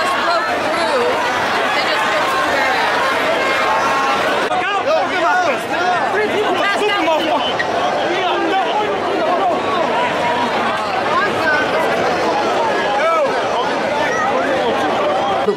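Dense crowd pushing through stadium gates at the Copa America final, a loud constant hubbub of many voices shouting and chattering close by, with no break throughout.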